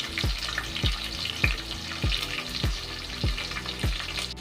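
Garlic and green chillies fry in a pan with a continuous crackling sizzle, punctuated by regular low knocks of stirring roughly every half second.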